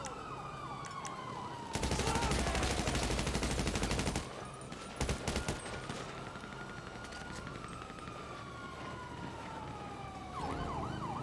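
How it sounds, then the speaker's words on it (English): Bursts of gunfire in GTA 5 Online, crackling in two dense volleys amid loud, continuous game action, with siren-like wails sweeping through the background. "Stop shooting me."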